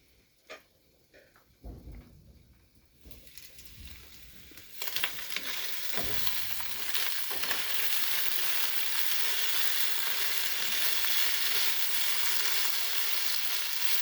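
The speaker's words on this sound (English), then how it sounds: "Sizzling." Meat sizzles loudly in a hot pan, a few clanks and scrapes first, then a steady, crackling hiss that fills the rest.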